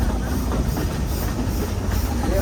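A steam train ride at Silver Dollar City rumbles on steadily, with continuous low rolling noise, hiss and faint clickety rail sounds close by and no talking.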